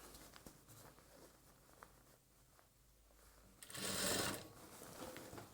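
A sewing machine stitches a chudidar bottom with frills. The rapid mechanical patter starts faint and intermittent, then swells into a louder, denser run near the end.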